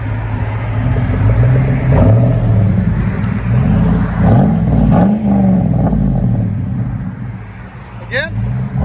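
A 2004 Chevy Avalanche 5.3L V8 through a Flowmaster Flow FX exhaust revs several times from a deep idle, each blip rising and falling in a throaty rumble, with a short voice near the end.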